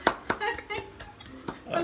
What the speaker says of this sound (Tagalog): Palakpak din siya.